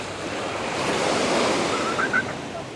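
Surf rolls onto a windy Boracay beach in the Philippines. Continuous wash of waves and gusting wind fill the whole stretch at moderate loudness with no talk.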